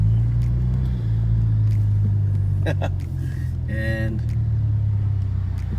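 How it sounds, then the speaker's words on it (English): Cadillac ATS with a 2-liter turbo engine and ZZ Performance exhaust, driving with a steady low exhaust drone throughout and a few brief clicks and a short tonal sound midway; a voice speaks briefly. "let's go for a test drive now on this Cadillac ATS"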